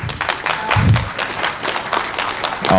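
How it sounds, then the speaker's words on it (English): An audience at a hacking conference claps briefly, a short scattered burst of applause in a hall that fades quickly. "I'll tell her you clapped."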